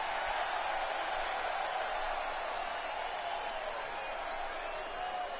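A wrestling crowd cheering as a female wrestler makes her entrance, a dense steady wash of cheers and applause that stays level throughout, sounding somewhat distant.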